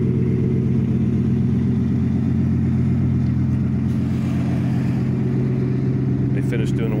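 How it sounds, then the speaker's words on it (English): A lifted 2018 Ford F150 Lariat 4x4 truck with straight pipes, no muffler and no catalytic converters idles with a steady, deep, loud rumble that throbs low and constant throughout, with a faint brief rattle near the end. "It's got a nice aggressive sound with the pipes."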